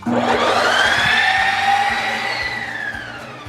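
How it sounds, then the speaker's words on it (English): A Ninja Creami ice cream maker runs a respin cycle, its loud, close motor whine climbing and then slowly falling in pitch as the blade grinds through frozen banana cream pie protein ice cream. "I'm gonna put it back on, and this time we're gonna hit respin"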